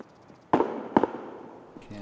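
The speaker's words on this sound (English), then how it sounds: "Those gunshots are catching up to us." Two sharp, loud gunshots in the video game Escape from Tarkov, about half a second apart, each with a short ringing tail, over a low background hum.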